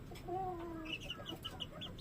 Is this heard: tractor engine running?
no